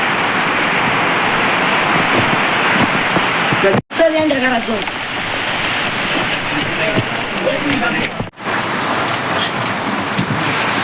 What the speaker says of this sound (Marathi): काय लय पाऊस आहे बाहेर